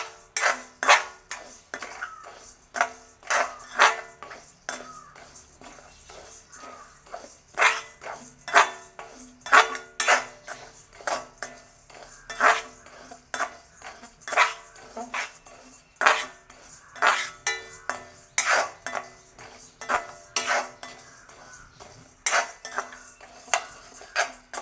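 Toor dal dry-roasting in a pan, with a spoon scraping and clinking against the metal in a steady, irregular rhythm of sharp close strokes for the whole stretch.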